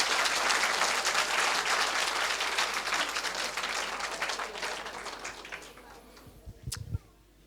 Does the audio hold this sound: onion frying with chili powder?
no